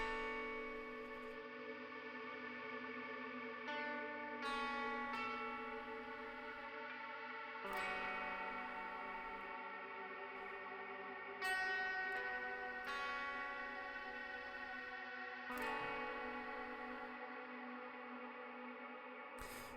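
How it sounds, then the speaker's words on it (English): A music chord rings out under a long, drawn-out reverb, the sustained tones shifting and washing over each other for nearly twenty seconds. Several new swells and strikes come in along the way, with no talking. "So you can hear that really long, drawn-out reverb."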